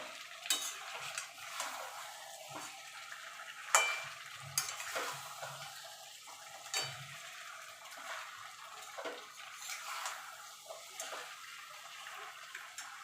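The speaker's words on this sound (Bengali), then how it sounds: "এবার আমি মাছের কাটাগুলো দিয়ে দেবো দিয়ে এবার ভালো করে মশলার সঙ্গে কষিয়ে নেবো" Bhetki fish bones stirred and fried with spices and potatoes in a pan for Bengali-style chorchori, with quiet scraping stirs and utensil clinks over a soft steady sizzle, fairly faint and close.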